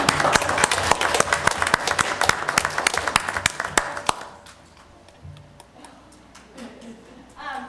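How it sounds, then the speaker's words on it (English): Parents and kids at a village board meeting give a round of applause, loud close hand claps for about four seconds that then thin to a few scattered claps and faint murmuring voices. "the parents and all the kids need to go round of applause."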